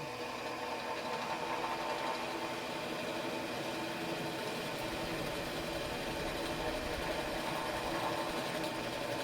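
Wood lathe spinning a hard red oak baluster while a spindle gouge cuts, giving a continuous close-up whirring hum with a dense, hissing scrape that stays steady throughout.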